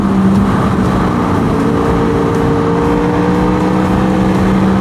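Honda motorcycle engine with VTEC revving hard, a loud continuous roar with rising harmonic tones sustained throughout, no voices.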